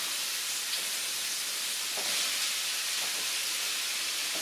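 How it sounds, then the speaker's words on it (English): Sausage and onion sizzle in hot oil in a pan, a steady, fairly quiet hiss of frying that holds evenly throughout with no talking. "add my sausage and my onion to my oil. Hear that sizzle?"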